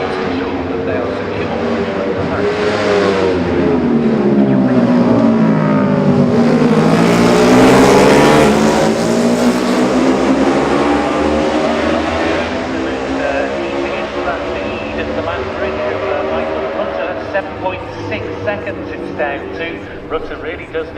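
Racing motorcycles at the Classic TT junior race roar past at speed on the road, a loud engine scream swelling as they approach and Doppler-dropping as they pass, sustained and close throughout.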